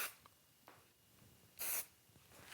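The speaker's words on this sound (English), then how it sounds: "Now that I've sprayed it down" Spray adhesive is misted onto quilt batting while a T-shirt pillow is made: a single short, bright hiss burst near the middle, with a fainter puff earlier and quiet room tone around it.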